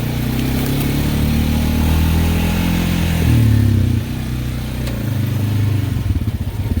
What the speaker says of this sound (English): let's take a little bit of a ride here